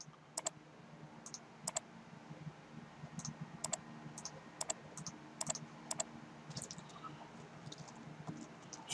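A computer keyboard is typed on in irregular bursts of soft keystrokes with a few sharper clicks, close and quiet against a low room hum, with no speech.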